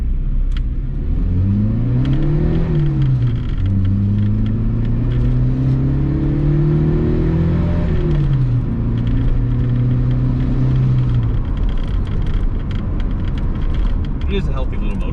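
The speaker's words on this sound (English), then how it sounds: "The long storied M10 engine." A 1982 BMW 320is E21 with its M10 four-cylinder engine drives along, its close, steady engine note climbing and dropping through several gear changes over a constant road rumble.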